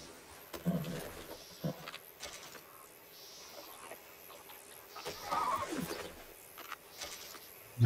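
A horse in Red Dead Redemption 2, just hitched after a ride, gives a short neigh and a few snorts, fairly quiet against a low game-world background.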